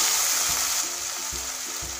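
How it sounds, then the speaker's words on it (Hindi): Hot boiling water going into a pan of vermicelli upma gives a strong hiss and sizzle that eases after the first moment, with soft repeated low thumps of stirring beneath. "तो मैंने यहाँ पे लगभग 2 कप पानी मिलाऊँगा।"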